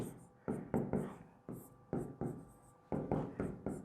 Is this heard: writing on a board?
yes